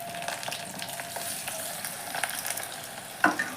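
Okra pakora fritters, made with a rice-flour batter, fry in hot oil with a soft, continuous sizzle and crackle. A brief clink of a utensil sounds near the end.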